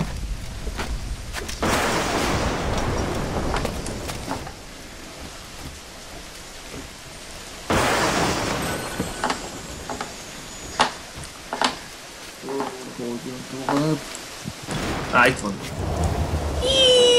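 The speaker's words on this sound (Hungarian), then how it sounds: "most kell terelni a viharnak" Thunderstorm with heavy rain in the pirate game Assassin's Creed IV Black Flag, with a steady downpour, loud thunder booms around two and eight seconds, and spoken voices heard partly over the storm.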